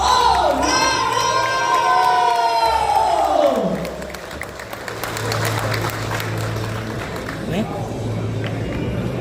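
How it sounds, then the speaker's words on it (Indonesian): A large crowd at a national domino federation ceremony in Indonesia bursts into loud cheering and shouting, with applause running underneath, then settles into a steady sustained roar of clapping and voices. "Berikan tepuk tangan yang paling meriah untuk Federasi Olahraga Domino Nasional"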